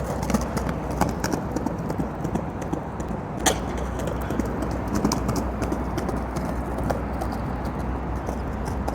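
Skateboard rolling fakie with a rider in goofy stance: a steady, close rolling roar of wheels with small clicks and ticks throughout, and no talking.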